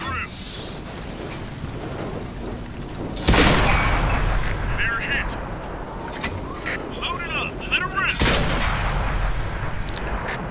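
Tank cannon shots in World of Tanks, two loud booming blasts several seconds apart over a rumbling engine bed, with a player talking throughout.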